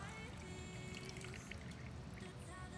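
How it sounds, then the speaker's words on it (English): Vodka pours in a steady, continuous stream into a mason jar packed with pumpkin and spices, a close liquid rush with a faint trickling edge, heard alone. "So just finish up with the vodka right on top."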